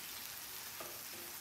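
Halloumi cheese sizzles and fries in a hot pan, a faint, steady crackling hiss with a couple of soft stirring clicks, no talk.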